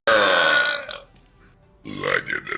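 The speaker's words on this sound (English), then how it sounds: "Satan burping." A deep, loud burp rumbles for about a second, followed by a short pause and then a voice talking briefly.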